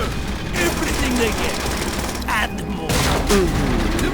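Sustained gunfire from a World War II shooter game, Call of Duty: World at War, rattling steadily in dense overlapping bursts with a voice talking over the battle noise.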